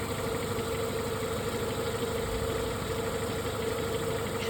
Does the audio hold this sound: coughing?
no